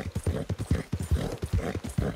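A horse galloping in the Red Dead Redemption 2 video game, steady rapid hoofbeats drumming in a clip-clop rhythm, close and loud, with no talk over it.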